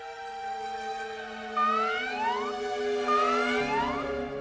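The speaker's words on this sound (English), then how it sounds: "That's the alarm. Guess the Imperials have popped up." Rising and falling alarm siren wails in the Valkyria Chronicles 4 video game, layered sweeping tones over a steady low drone, loud and continuous with no talking.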